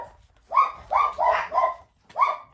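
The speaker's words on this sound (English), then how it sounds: "the neighbor dog started barking" A neighbour's dog barks five times nearby, four in quick succession and then one more after a short pause, each bark sharp and clear over a quiet background.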